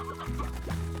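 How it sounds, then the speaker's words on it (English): Hens cluck in the farming game Slime Rancher, a couple of short, rounded clucking calls close by over a steady, low musical background hum. "Hens are in there."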